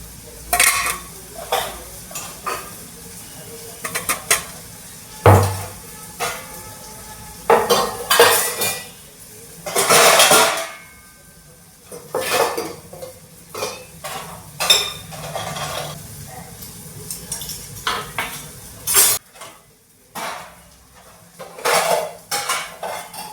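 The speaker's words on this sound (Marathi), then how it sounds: "जाळीतली भांडी लावून घ्यायची" Dishes and cutlery clatter and clink in irregular bursts as they are arranged in a dish rack, with pots knocking together at close range and a faint sizzle underneath.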